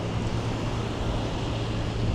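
Wind buffets the microphone on a street in Manila, a steady low rumble and broadband rush with no voices.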